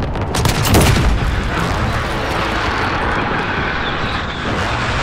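A precision airstrike hits in Call of Duty Modern Warfare 2019 as a loud, close, rumbling barrage of blasts and rapid gunfire bursts in near the start, followed by a continuous roar of gunfire and explosions.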